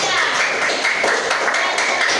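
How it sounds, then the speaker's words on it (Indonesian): Classmates clap for a student group in a classroom, a close and fairly loud burst of hand claps with a quick uneven rhythm, some voices mixed in. "kita berikan tepuk tangan untuk kelompok 3"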